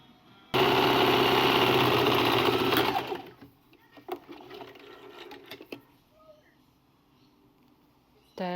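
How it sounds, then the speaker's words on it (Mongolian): A sewing machine stitching straight seams on Harry Potter fabric runs in one loud steady burst for about three seconds, then stops, leaving faint handling clicks and quiet room sound. "Тэгээ одоо энийг бүгдийг нь ингээд шулуун ойдлоор холбож оёно гэсэн үг."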